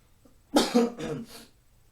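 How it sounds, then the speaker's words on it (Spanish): A man coughs in a short burst, two or three quick hacking coughs close up, followed by quiet. "Es el esfuerzo de la voz, es por eso que toso un poquito"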